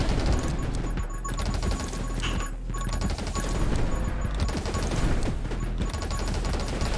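Massive explosion in the video game 20 Minutes till Dawn, heard as a dense, continuous roar of crashing blasts and rapid gunfire-like bursts at steady high loudness throughout.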